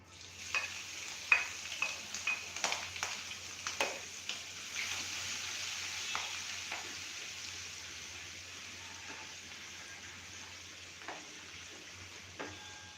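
Ginger-chili paste and asafoetida fry in hot oil with a steady crackling sizzle, punctuated by sharp spattering pops and stirring clinks near the start before settling into a continuous hiss.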